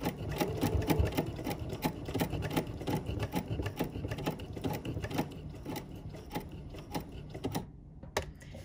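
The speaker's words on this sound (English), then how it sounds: "I will also sew it a second time." A Bernina sewing machine sews on a button, running in a rapid, steady mechanical chatter of needle strokes up close, then stopping abruptly near the end.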